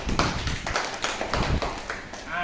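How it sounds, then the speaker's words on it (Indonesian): Brief applause from a small group at a meeting or class: a handful of sharp, irregular claps and taps, fairly close, over roughly two seconds, with no talking. "tepuk tangan untuk kita semua"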